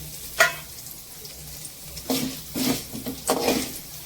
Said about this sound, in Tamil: இப்போ காஞ்ச மிளகா போட்டுக்கலாம்.